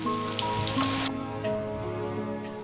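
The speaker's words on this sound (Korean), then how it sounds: "흐려진 날씨, 가을비가 내리는데" Autumn rain falls steadily on a grey, overcast day, a dense continuous patter of drops on surfaces, with faint tonal background sounds underneath and no talking.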